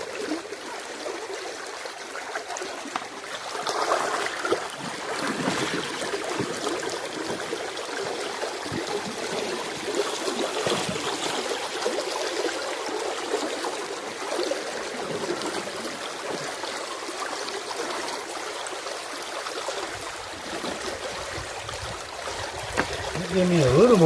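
Creek water rushes steadily over and past a big boulder, a continuous close gurgling and trickling flow with small drops, with a voice talking over it at times.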